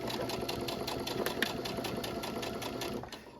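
A sewing machine stitches steadily along a marked line, a quiet, rapid, even mechanical whirring and ticking that runs for a few seconds and then slows toward the end.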